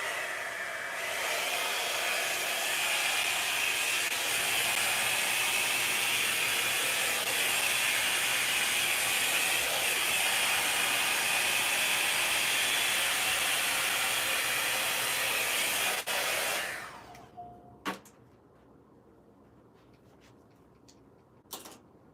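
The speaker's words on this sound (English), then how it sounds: "With this blower," Hair dryer with a nozzle attachment blowing loudly and steadily at close range for about sixteen seconds, then switching off, leaving a few light clicks and handling sounds.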